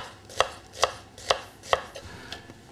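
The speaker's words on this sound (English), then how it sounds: "slice it in half lengthways and slice really thin crossways" A knife slicing an onion thinly on a board, four crisp evenly spaced cuts landing about every half second, then a softer fifth, close and clear with no voices.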